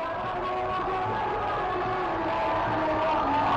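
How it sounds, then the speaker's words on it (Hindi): BJP supporters chant Jai Shri Ram and Bajrang Bali slogans at Prime Minister Modi's road show in Karnataka, a steady, rhythmic mass of voices at moderate distance that swells slightly. "जय श्री राम और बजरंग बली के जय के नारे भी बीजेपी कार्यकर्ताओं की ओर से गूंजते दिखाई दे रहे हैं।"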